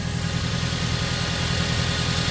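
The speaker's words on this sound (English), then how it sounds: "Let me turn the engine on. So you can hear the noise." A Toyota car engine idles steadily in a garage setting during brake pad work, a continuous low rumble with faint vibration and no talking.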